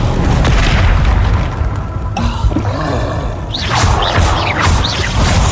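Confringo spell explosions in the Hogwarts Legacy video game, loud booming blasts over a dense rumbling battle din, followed by whooshing magical bursts.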